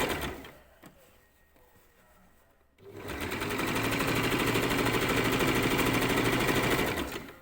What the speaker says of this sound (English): just another way to keep it nice and flat as you stitch around